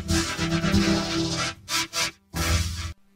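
A TailsCityEvening effect built in Vocodex: a dense, heavily processed synthetic texture with buzzy harmonic layers, chopped into bursts with short silent gaps and an abrupt cutoff.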